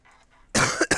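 A person coughs sharply twice at close range in quick succession, loud against a quiet room during an AutoCAD Architectural 2019 tutorial.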